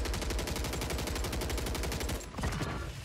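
Rapid automatic gunfire from a Call of Duty match rattles in fast continuous bursts, loud and close, with a brief break near the end before the shots pick up again.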